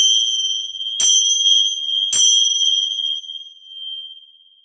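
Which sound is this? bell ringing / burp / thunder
bell ringing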